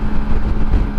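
Wind buffets a helmet while riding a custom motorcycle, a loud, steady low rumble and roar close to the ear with no talking, lasting only about a second.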